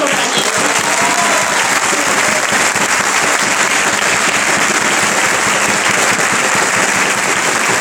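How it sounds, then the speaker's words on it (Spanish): Crowd applause at a Peronist political rally, a loud, dense and unbroken roar of clapping that holds steady from start to finish. "Compañera Emilce Moller, fuerte el aplauso."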